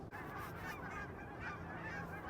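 Geese honk repeatedly outside beside a house, a dense overlapping flock calling steadily at close to moderate distance, with no talk over it.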